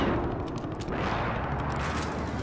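A sniper rifle fires in the Call of Duty Warzone video game, with several sharp cracks and booms in quick succession over a dense, loud burst of game noise and no voices.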